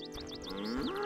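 A cow lowing in The Witcher, a drawn-out moo that rises and bends over about a second, loud and close, layered over ambient game music with soft chirping bird-like notes above.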